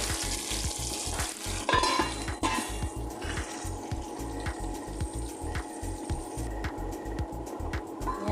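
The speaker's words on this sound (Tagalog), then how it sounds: "Tapos i-simmer lang natin ng mga 2 minutes" Creamy halang halang chicken simmers in a pan, with a continuous bubbling sizzle, a rapid low pulsing throughout and a few brief scraping clinks early on, heard close with no talking.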